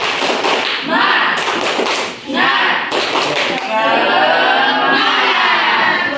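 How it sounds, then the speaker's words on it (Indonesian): A classroom of students performs a rhythmic clapping chant, loud patterned claps alternating with shouted group voices in quick bursts, followed by sustained cheering and chanting. "1, 2, 3. Tepuk semangat."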